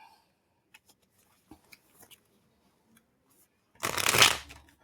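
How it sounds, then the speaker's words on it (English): An oracle card deck is riffled in one quick, loud shuffle near the end, preceded by a few faint taps and card handling in near silence. "Ah, the cards are being funky. Okay. You're going to have a funky shuffle."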